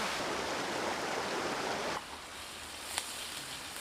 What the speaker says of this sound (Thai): เป็นน้ำตกแบบนี้นะทุกคน